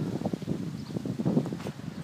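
Wind blows along the Mallorca coast near Sóller, a constant low buffeting rumble on the microphone with irregular gusting surges.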